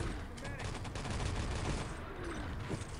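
Artillery and gunfire in a Nationscup 2020 match between Belgium and the USA, a dense, continuous barrage of shots and blasts running throughout, with a commentator's voice faintly mixed in.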